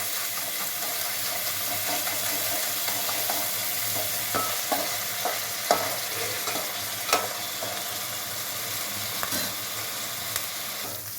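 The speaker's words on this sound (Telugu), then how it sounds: "అల్లం వెల్లుల్లి పేస్ట్ పచ్చి వాసన పోయే వరకు ఫ్రై చేయాలి." Ginger garlic paste fries in hot oil for a dry mutton curry, a dense steady sizzle with repeated scraping strokes of a spoon stirring through it, close and fairly loud.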